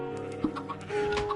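Chickens cluck in a PS4 video game, a short run of soft clucks and a brighter squawk near the middle, fairly close and alone.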